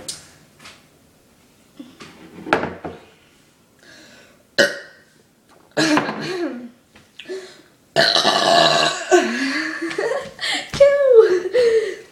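People take turns burping loudly during a burping contest, with several croaky belches of varying length mixed with laughter and talk.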